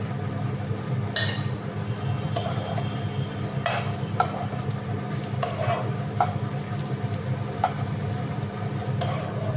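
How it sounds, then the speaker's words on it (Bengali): Green chillies and soya chunks stir-fried in a pan for chowmein, a steady close sizzle under repeated spatula scrapes and clinks against the metal, with no talking. "চলুন এবার কাঁচা লঙ্কাগুলো দিয়ে দিলাম, আর সয়াবিনগুলোও দিয়ে দিচ্ছি।"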